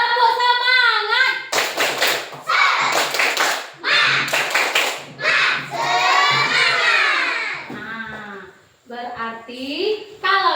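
A classroom of students performs a rhythmic spirit clap, with sharp bursts of group clapping alternating with loud chanted and shouted children's voices.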